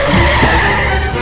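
A car brakes hard and its tyres skid and squeal for a brief, loud moment before it comes to a stop.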